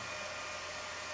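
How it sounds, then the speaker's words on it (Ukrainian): The cooling fan of a Benning Tebechop 1300 48 V 25 A power supply runs as a steady, loud, even whir with a faint tonal hum and no variation over the short span. "А вентилятор так і не стає тихше працювати."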